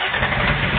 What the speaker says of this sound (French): Moteur, démarre!